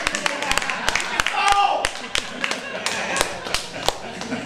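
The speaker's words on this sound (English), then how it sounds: "let's give a round of applause" Scattered claps and sharp taps from a small group, irregular and fairly close, with a burst of cheering partway through.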